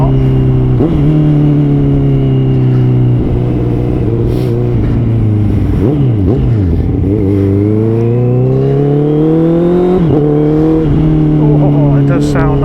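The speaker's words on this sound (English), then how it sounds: "Oh, it does sound nice when it's cold." A Honda CBR650R motorcycle engine running on dry roads while cold, a steady loud drone with rising and falling revs throughout, a few sharper throttle blips standing out.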